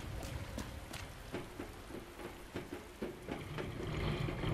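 Steady rain patters through a Resident Evil 2 game scene, with scattered sharper drop-like ticks over a constant wash that swells slightly toward the end; no one speaks.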